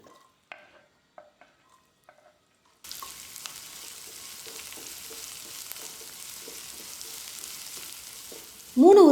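Finely chopped onion and cumin seeds frying in hot oil for a chili bajji snack, a steady close sizzle that starts abruptly after a few light kitchen taps and keeps going alone, swelling louder at the very end.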